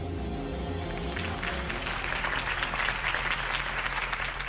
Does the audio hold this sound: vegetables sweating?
no